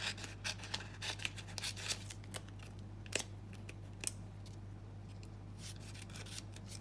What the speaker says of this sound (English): I'm going to cut around your cardstock.